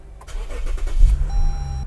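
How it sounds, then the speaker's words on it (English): A Lexus GS350 engine cranks briefly and catches, rising to a steady idle hum within about two seconds, close and fairly loud with no talking. "I'll go ahead and start my car to show you."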